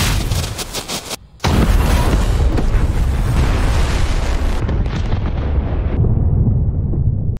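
A loud, sustained explosive roar from an exploding armory building, with a sharp burst after a brief gap, rumbling and crackling continuously with no voices.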